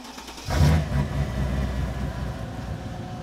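A Mercedes CLK55 AMG engine cranks and fires up, then revs briefly before settling into a steady, rumbling idle, close and loud with no talking.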